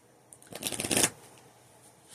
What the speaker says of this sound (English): So, we're going to shuffle these.